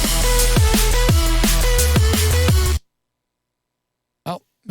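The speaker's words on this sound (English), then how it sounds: "The bass on its own sounds like this." A bass part from an electronic music track plays solo, a loud, punchy rhythmic line with repeated plucked low notes for almost three seconds before cutting to silence, followed by brief talking.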